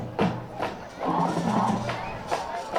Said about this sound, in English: More fired up crowd here jumping around for Slidell